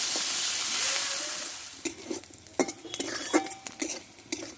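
Shrimp frying in hot oil with salt and turmeric powder, a steady hiss of oil with a run of close utensil clinks and scrapes against the pan partway through.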